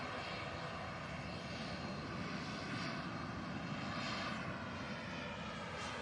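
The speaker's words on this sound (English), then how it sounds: "I can see that Eurowings to Stuttgart is now on the taxi." Eurowings jet taxiing at Manchester Airport, a steady, broadband engine roar heard from a distance that holds at an even level throughout.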